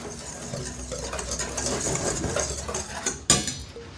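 Wet batter ingredients for a copycat Chick-fil-A crispy chicken coating being whisked in a bowl, a steady scraping stir lasting a few seconds and ending with a sharp tap against the bowl's rim.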